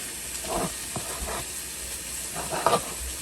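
Sea cucumber pieces frying in a pan, giving a steady hiss with a few brief louder bursts of sizzle and stirring, with no talking.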